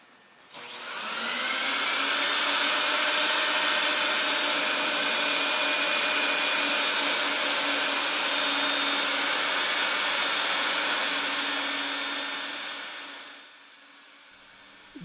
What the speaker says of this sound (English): how my machine is working and how the vacuum extract all the urine, all the liquid, all the cleaner from the top of the rug to the bottom of the rug